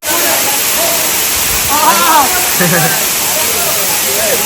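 A hidden waterfall near Badlapur pours with a loud, constant broadband roar that fills the whole clip. Voices rise faintly above the rushing water partway through.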